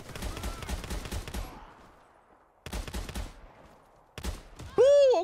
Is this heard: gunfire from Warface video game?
yes